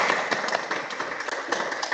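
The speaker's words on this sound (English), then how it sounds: "So a big round of applause, please." An audience at a university journalism event applauds, a short burst of dense, steady clapping from many hands filling the room for about two seconds.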